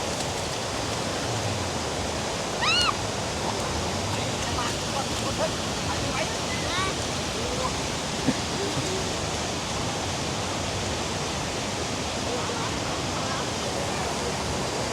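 Tad Wang Ma waterfall in Sangthong district, Vientiane, Laos, roars as a broad, unbroken hiss of falling water, with a few faint bird chirps rising above it near the start and no talk.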